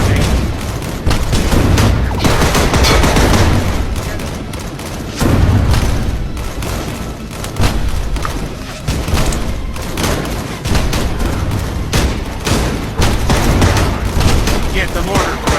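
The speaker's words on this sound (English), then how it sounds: "Get the mortar running. They must be somewhere." Mortar and gunfire boom repeatedly in the video game Cactus Cowboy Plants At War, a dense battle of heavy thumps and bursts, with muffled game voices underneath.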